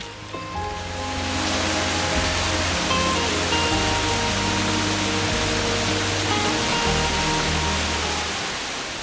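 Steady rushing water pours continuously from a small waterfall on a Doi Inthanon mountain trail in Thailand, a broad even wash close by, with faint tonal chirps and hums of birds threaded through.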